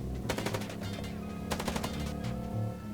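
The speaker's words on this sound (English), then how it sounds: "ガンガン撃ってくるな、クソ。" Rapid video-game gunfire from Chicken Police in two dense bursts of repeated shots, loud and close, with a steady low rumble underneath and no talk.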